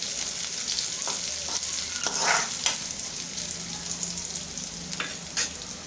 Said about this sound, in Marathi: परतूया।